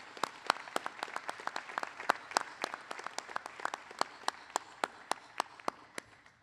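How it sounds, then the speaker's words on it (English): An audience at a village board meeting applauds a retiring police commander, steady crowd clapping with sharp individual claps standing out in a regular rhythm, continuing evenly for the whole stretch. "If I can get a round of applause for Commander Hess."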